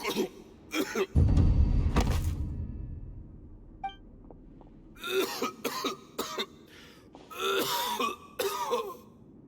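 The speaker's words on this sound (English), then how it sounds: "Why is he coughing so much?" Character coughing and clearing the throat in a Genshin Impact cutscene, several harsh, rasping coughs in close bursts with a rumbling low hit, a pause, then another cluster of wet coughs toward the end.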